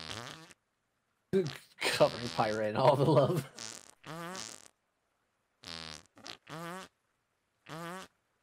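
Heart fart item sound effect in a video game, heard as short buzzy bursts spread across the clip, with voices talking between and over them.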